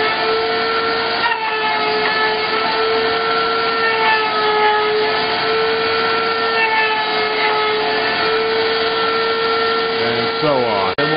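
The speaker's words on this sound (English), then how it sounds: "I guess the router is loud as hell." Wood router cutting holes in a grid board for loading 12 gauge shells, a loud, steady high whine with droning tones running continuously and a shop vacuum humming beneath, close by.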